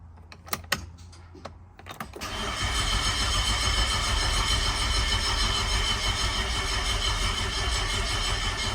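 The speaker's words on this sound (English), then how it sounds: "We're just going to crank it over." A Nissan Skyline R34's RB25 Neo engine, from a damaged auction car, cranks over after a few sharp clicks, then a loud, steady whirring drone continues close by.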